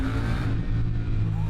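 A three-cylinder 8R motorcycle engine revving loudly and close, a steady deep growl with a slight rise in pitch near the end, no voices.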